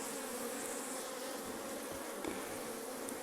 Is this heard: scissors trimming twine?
no